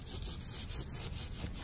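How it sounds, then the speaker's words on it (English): Scrap paper rubbed firmly by hand over an inked gel printing plate, a steady close scratchy swishing that rises and falls in repeated back-and-forth strokes, with no voices. "so you just rub, rub, rub,"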